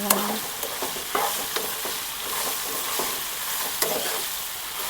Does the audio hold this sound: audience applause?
no